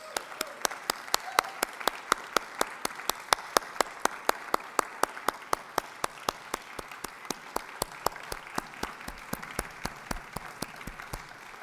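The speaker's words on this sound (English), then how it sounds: "let us give him another round of applause" Steady, evenly spaced rhythmic clapping from an audience at a Freedom Summit event, sharp regular beats about three per second running for the whole stretch over a low murmur of crowd noise.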